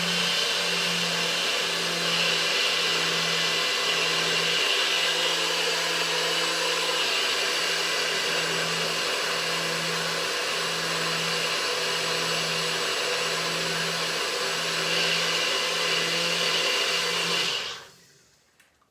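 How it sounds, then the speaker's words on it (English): A blender whirs loudly and steadily while mixing a shake, a continuous motor drone with a pulsing low hum, then abruptly switches off near the end. "I'm gonna go ahead and pop the blender on"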